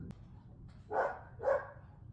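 Dogs bark twice in the distance, two faint, muffled woofs about half a second apart over a quiet indoor background.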